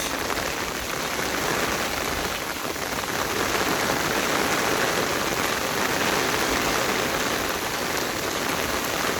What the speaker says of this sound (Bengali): চারপাশে প্রচণ্ড বৃষ্টি।